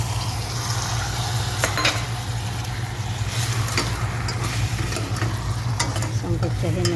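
Chicken pieces hitting a hot pot with grated ginger, a steady close sizzle with stirring and faint scraping of the utensil against the pot, continuous throughout with no talking.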